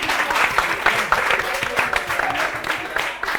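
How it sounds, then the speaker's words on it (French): A crowd at a French event claps loudly and continuously, a dense, close patter of many hands with a few scattered voices mixed in. "Mesdames et messieurs, on applaudit pour le plus..."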